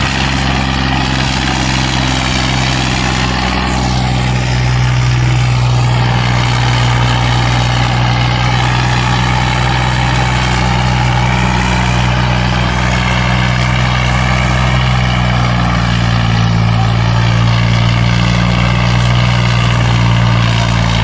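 A Swaraj 855 tractor's heavy diesel engine drones loudly and continuously under load, a deep steady rumble with a slight rise in strain partway through, no voices.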